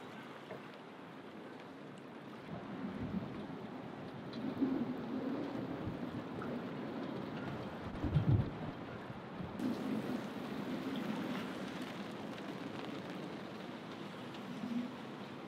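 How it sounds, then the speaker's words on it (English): Storm wind and rain buffet a boat lying at anchor in San Carlos Harbor during a hurricane, gusts up to 44 knots; a steady, dense wash of rain and wind with occasional knocks and surges, no talk. "Just riding out the storm."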